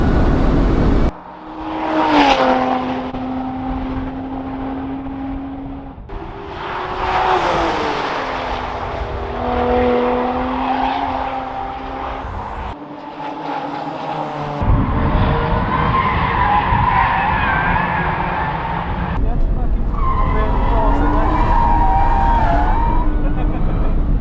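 Lotus Emira sports car fitted with a Milltek exhaust, driven hard on a race track: loud, close engine howl rising and falling through gear changes, with tire squeal and skidding noise and some talking over it.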